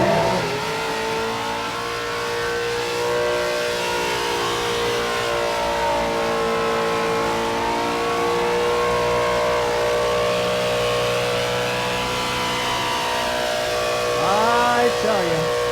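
A retro Myers Mustang at Summernats 35 revs hard through a burnout, its engine note droning loud and sustained for the whole stretch with steady rising and falling pitch, crowd noise underneath.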